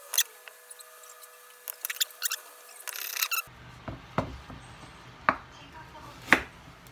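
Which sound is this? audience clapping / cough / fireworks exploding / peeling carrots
peeling carrots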